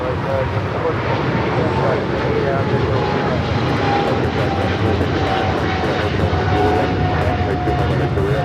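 JetBlue airliner in the new Puerto Rico livery passes at Los Angeles International Airport, a loud, steady engine roar filling the whole stretch with voices talking faintly beneath it.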